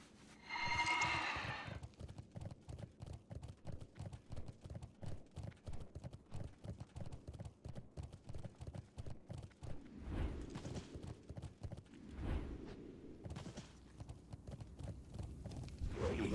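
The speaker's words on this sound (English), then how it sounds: "Now let's get on our horse." Horse mount hooves clip-clop steadily in World of Warcraft, a regular trotting rhythm running throughout, with a brief whinny at the start and a few louder swells of game effects later.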